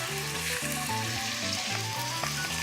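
Garlic sautés in a pan with a steady, bright sizzle and crackle, mixed with background music that has a rhythmic bassline.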